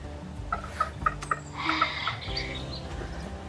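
Chickens at Folly Farm in Pembrokeshire give a few short clucks and calls near the start, rising over steady outdoor background noise with faint voices around.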